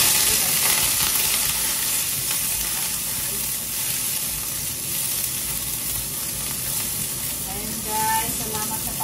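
Onion and garlic sautéing in oil as a base for bitter gourd with minced pork, a loud continuous sizzle with steady hiss and slight stirring texture throughout.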